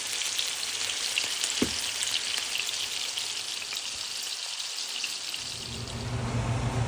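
Pointed gourd pieces sizzling in oil in a pan, a continuous bright crackling fry with a brief knock of a utensil partway through, close and steady without talk.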